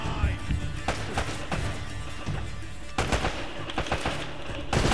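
Enemy gunfire in the video game Uncharted: Drake's Fortune, loud bursts of automatic shots and single cracks repeating in rapid clusters across the whole stretch, with brief pauses between volleys.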